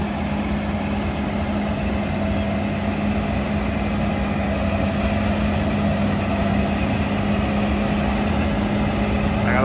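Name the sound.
Fendt Ideal 9 combine harvester engine revving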